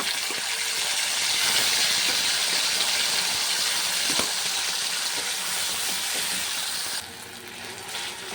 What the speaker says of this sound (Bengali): দারচিনি, লবঙ্গ, এলাচ, শুকনো লঙ্কা আর জিরা ফোড়ন দিয়ে মশলাটা দিয়ে দিলাম।